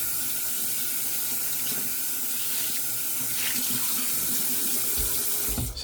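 Steady running water from a bathroom tap as a shaving brush is rinsed under the stream, a continuous close splashing rush lasting throughout with a brief clatter near the end.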